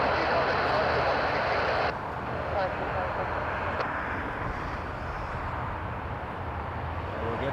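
A Dash 8 turboprop airliner lining up on runway 23 at Toronto Pearson airport, a steady droning engine roar heard from a distance with people talking over it.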